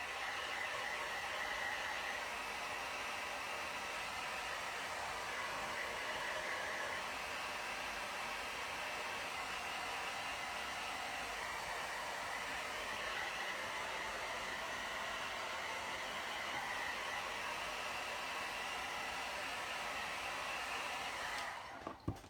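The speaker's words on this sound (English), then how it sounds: "Just going to swap over to my hairdryer. It will be noisier" A hair dryer blows continuously at a steady pitch, a loud, even whoosh with no pauses, cutting off with a click at the end.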